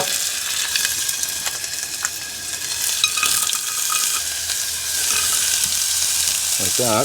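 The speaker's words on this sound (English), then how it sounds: "And then saute these up for about 5 to 6 minutes" Vegetables for Italian wedding soup sauté in a pan inside a camper van, giving a steady, close sizzle and crackle throughout, with a brief faint voice near the end.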